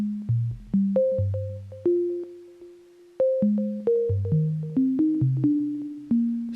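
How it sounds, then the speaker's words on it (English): Sine wave synth notes on an Akai, played as a melodic line in a minor scale: a pure, round tone steps through a dozen short plucked notes with quick decays, moving up and down at a steady pace, alone and clean. "I use my Akai quite a lot for drums or melodic stuff because the sine wave in it sounds really nice"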